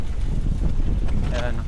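Strong wind buffets the microphone outdoors in a car park, a steady low roar with gusty rumble lasting throughout, and a voice speaks briefly near the end.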